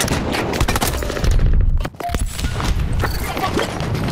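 Rapid burst fire from the AC-42 rifle in the video game Battlefield 2042, loud dense cracking shots in continuous volleys with a brief dip midway, no talk.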